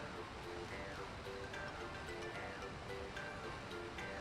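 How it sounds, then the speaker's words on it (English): A waterfall in the Okami HD video game rushes steadily as a soft, constant wash of water noise, with faint tonal game sounds on top. "Suddenly we start hearing waterfalls?"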